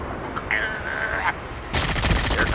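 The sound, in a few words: gunfire in a shooting video game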